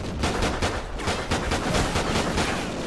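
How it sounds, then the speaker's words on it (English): Gunfire from a pistol in Call of Duty: Ghosts, a loud, close run of rapid shots with evenly spaced sharp cracks and dense rumbling echoes filling the stretch, with no voices. "I'm pulling a pistol."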